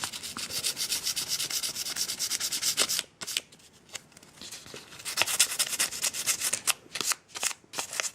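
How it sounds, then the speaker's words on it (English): Hand sanding with 800 grit sandpaper to strip paint off the top of a small emblem for a Trailfinder 2 Hilux RC truck, a close, steady scratchy rubbing for about three seconds, then shorter strokes in quick bursts with brief pauses. "I got an 800 grit sandpaper, and I'm just going to sand the top, just to get the paint off the top of the emblem."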